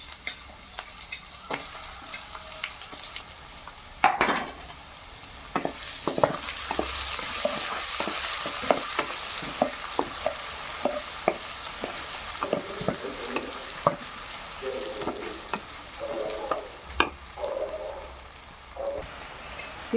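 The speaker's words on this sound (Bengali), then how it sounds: "ওই একই তেলে আমি দিয়ে দেবো কটা তেজপাতা, দিয়ে দেবো পেঁয়াজ কুচি" Chopped onion and bay leaves frying in oil for a mutton and potato curry, a gentle crackling sizzle running throughout with frequent spatula taps and scrapes against the pan, no one speaking.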